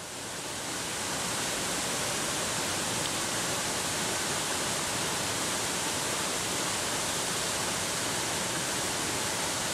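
Farako waterfall near Sikasso in Mali gives a dense, unbroken roar of falling water, loud and even throughout with no voices.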